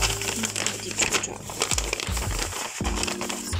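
A plastic bag crinkles as it is handled and opened during a craft project, with irregular close rustling bursts while a person talks intermittently.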